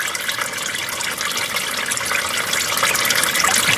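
CVT fluid from a 2011 Nissan Altima gushes steadily out of the transmission into a drain pan, a loud continuous splashing pour that grows slightly stronger toward the end.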